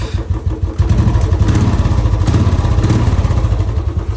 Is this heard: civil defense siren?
no